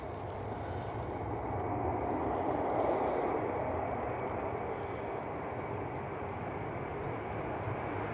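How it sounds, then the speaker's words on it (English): A Turkish Airlines Airbus airliner at Manchester Airport gives a steady, broad engine roar that swells slightly midway and holds on under stormy conditions, with no voices over it. "Turkish Airbus going back to Istanbul."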